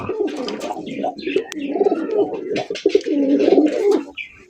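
Fancy racer pigeons coo steadily and close by at a seller's loft, their throaty calls rolling on without a break, with faint chirps and a brief hint of voices in the background.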